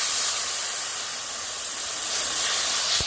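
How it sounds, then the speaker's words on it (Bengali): Water splashed onto sizzling frying spices for a rui fish kalia produces a loud, continuous steamy hiss that holds steady for several seconds. "এবার মশলা ধোয়া বাটিটা থেকে অল্প একটু জল দিয়ে দেবো"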